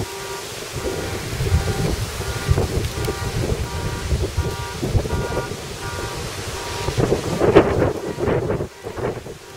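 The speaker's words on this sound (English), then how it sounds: "It's just really gotten windy here in the last like minute." Strong gusting wind during a windstorm in Coon Rapids, Minnesota, roars and buffets continuously, surging in loud bursts toward the end with no talk over it.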